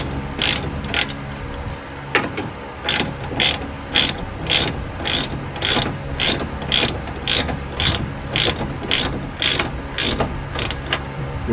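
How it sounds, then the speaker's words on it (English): Steady ratchet clicking in quick repeated bursts as a bolt is tightened on the tie rod of a 1997-2002 Ford F-150 during tie rod replacement, close and fairly loud with no talk. "And we're gonna tighten that bolt."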